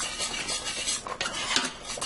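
A spoon stirs flour into melted margarine in a soup pot to form a roux for cheesy ham and potato soup, giving close scraping and clinking strokes against the pan with a faint sizzle underneath.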